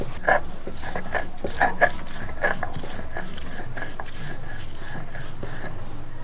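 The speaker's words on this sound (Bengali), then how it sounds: "শিলে ভালো করে মিক্সি করে বেটে নেবো মিহি করে" Spices being ground fine on a traditional stone grinding slab (shil) make a rhythmic series of close, gritty scraping strokes with occasional sharp knocks of stone on stone, repeating steadily throughout.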